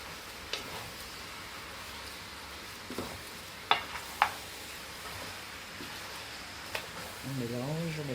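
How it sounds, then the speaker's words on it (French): Goat massalé sizzles faintly in a pot while being stirred, a low frying hiss broken by a few sharp clicks and taps of a utensil against the pot, with a voice speaking near the end. "On mélange, on mélange, on mélange."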